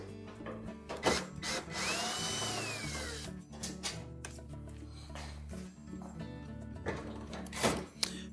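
A power drill backs out retaining screws from the front panel of a GE dryer, with short whirring bursts, clunks and tool handling close by.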